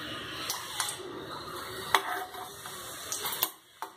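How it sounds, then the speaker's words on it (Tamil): Dried red chillies fry lightly in oil for tomato chutney, with soft, quiet sizzling beneath scattered spoon scrapes and clinks against the pan, several sharp taps standing out. "இப்போ இதே போல் வத்தலையும் நம்ம லேசாக வறுத்து எடுத்துக்கலாம்."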